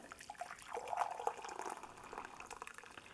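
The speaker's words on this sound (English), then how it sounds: "We're going to add 4 cups of hot water." Hot water is poured into a bowl holding alum, a faint close trickle and splash that swells briefly and then settles into a light, uneven gurgle, with no voices.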